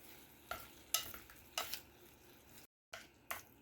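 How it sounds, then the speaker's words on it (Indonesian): A utensil scrapes and clacks against a pan in several short, irregular strokes, with a faint sizzle between them and a brief silent gap. "Aduk rata, masak sebentar."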